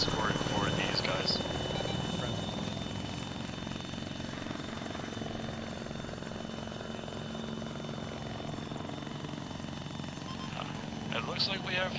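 A helicopter arriving in the military game ArmA 3, its dense rotor and engine drone loud and continuous under ongoing voice chat.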